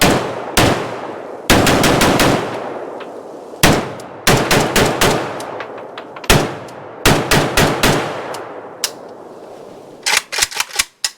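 A Polish AK sporter rifle fires Tella ammunition outdoors. Loud close shots come in rapid strings and bursts separated by short pauses, and a fast run of quicker cracks ends the sequence.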